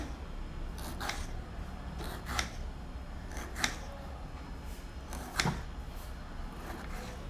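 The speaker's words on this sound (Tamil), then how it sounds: "இப்போ இதுக்கு தேவையான தக்காளி பழம் கட் பண்ணுறேன்" A knife slicing tomatoes on a cutting board while cooking a Chettinad brinjal dish: four or five sparse, crisp chops spaced a second or so apart, fairly faint over a quiet kitchen background.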